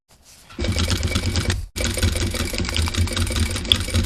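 A sewing machine stitching a seam on a coat made of double-sided raincoat fabric, a fast, steady mechanical whir close up that starts, pauses briefly and resumes, with no speech.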